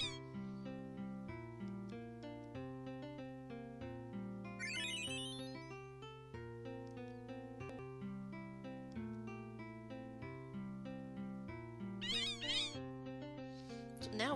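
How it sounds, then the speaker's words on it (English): A cat meowing repeatedly in a steady musical pattern within Final Fantasy 9 gameplay, plaintive cries sounding over an ongoing game melody, with a brief chirpy flourish near the end. "Go on, cat. You're upset that I'm talking."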